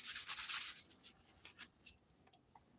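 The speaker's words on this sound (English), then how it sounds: "I have a hand sander here in the vise," A hand sander clamped upside down in a vise rasps against a workpiece with a quick series of rhythmic strokes, then slows into a few faint, scattered rubs, close and quiet.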